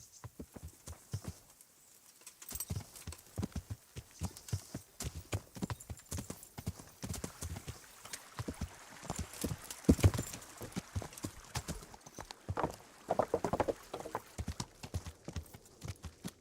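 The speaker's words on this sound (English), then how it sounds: "Caballo." In a video game, a horse's hooves clip-clop in irregular bursts of sharp, close hoofbeats, pausing and resuming over quiet background ambience with no talking.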